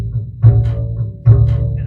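Two Bartok pizzicato notes on a string instrument, each a sharp snapping pluck of a string against the fingerboard that rings on briefly, the pair spaced less than a second apart, close and loud, with no talking.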